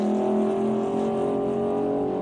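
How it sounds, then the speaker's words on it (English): A car with a loud aftermarket exhaust passes close by on a highway detour, its steady, throaty engine drone holding a strong, even tone throughout. "I guess we're supposed to be impressed with his loud exhaust"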